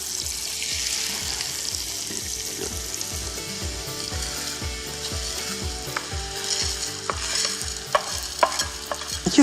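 Chopped onions sizzle in butter in a pot, a steady frying hiss broken by rhythmic scraping and stirring strokes throughout, close and fairly quiet, with sharper clinks near the end.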